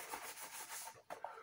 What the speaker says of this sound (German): Schön nass schleifen.